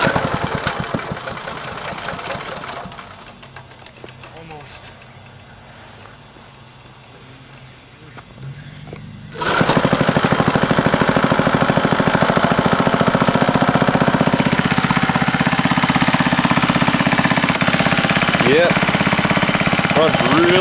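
An old Montgomery Ward gasoline generator cranks quietly, then catches partway through and roars into a loud, steady, close running drone that continues to the end.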